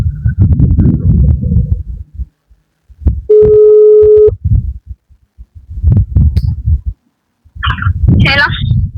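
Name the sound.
mobile phone ringing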